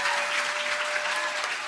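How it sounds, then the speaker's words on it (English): Brief burst of audience applause welcoming a celebrity chef at a culinary stage event, steady clapping from a crowd with no voices over it. "please give a round of applause, warm Pennsylvania welcome to our 2026 celebrity chef, Brian Voltaggio."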